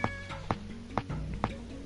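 A cat meows in the Shenmue video game, set in 1986 Japan, giving a short tonal cry at the start amid dense game background sound with several sharp rhythmic knocks spaced about half a second apart.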